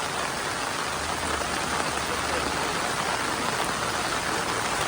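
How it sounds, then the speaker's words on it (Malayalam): Heavy June monsoon rain pours down in a flooded area as a steady, dense, loud hiss, unbroken from start to end with no voices. "ജൂൺ മാസത്തിലെ തകർത്ത് പെയ്യുന്ന മഴയിൽ"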